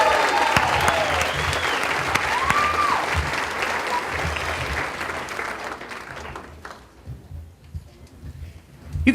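A graduation audience at an early college academy gives sustained applause with some whoops and cheers, a dense wash of clapping that fills the room and gradually thins and fades toward the end.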